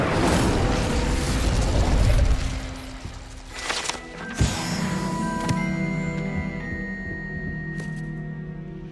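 Incendio fire spell cast in Hogwarts Legacy, a roaring whoosh of flame that fades, followed by a sharp burst, crackling pops and shimmering magical tones ringing out.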